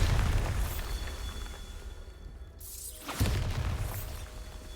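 A Bombarda blasting spell going off in a Harry Potter video game, a dense crackling boom with heavy low rumble that fades, then a second explosive burst erupts a moment later.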